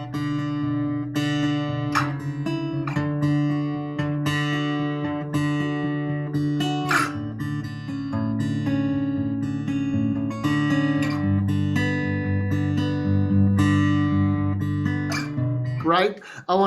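An acoustic guitar is played close up, picked notes ringing over a sustained low droning D that continues underneath the moving bass and top notes throughout.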